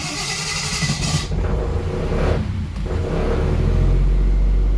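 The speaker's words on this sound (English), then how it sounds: "I give it a bit of a throttle" Triumph 2000 car engine revving as the throttle is blipped, a loud, close, rough rumble that swells and settles, with no talking.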